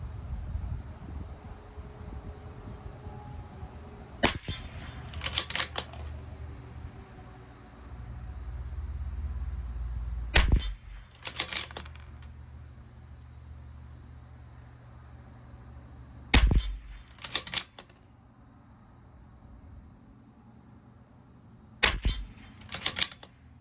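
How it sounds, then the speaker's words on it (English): Bergara B14R Carbon rifle firing SK Standard Plus ammunition at 50 yards: sharp, loud single shots spaced several seconds apart, each with a quick echoing tail, over quiet outdoor background. "So we're gonna go 1 inch over to the right and shoot that center cross again."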